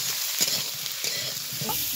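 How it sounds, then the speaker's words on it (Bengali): Eggplant and radish frying together in a pan, a soft sizzle with a few stirring scrapes and clicks, close and fairly quiet. "একটু হালকা করে বেগুন মূলা সব একসঙ্গে ভেজে নিব"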